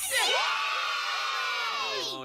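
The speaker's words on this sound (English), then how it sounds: "Oh, you're cheering now" Wrestling event audience cheering and whooping, a loud sustained wave of voices with high shrill shouts rising over the crowd noise for about two seconds before easing off.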